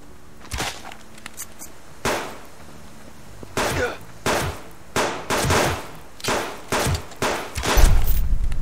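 Gunfire in the survival video game Subsistence: a series of sharp, irregular shots cracking one after another, some close together, with muffled talk faintly underneath.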